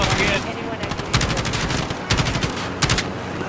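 Modern Warfare gunfire during the Operation Just Reward mission: a steady rattle of automatic fire with several louder, sharper bursts closer in, over continuous battle noise.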